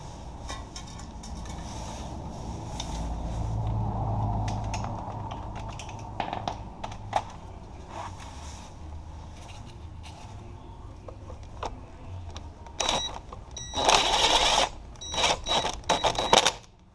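A ratchet clicks as a bolt is tightened on a strut assembly of a 2008-2016 Chrysler Town & Country, with scattered close clicks and handling noise, then louder rapid ratcheting bursts toward the end.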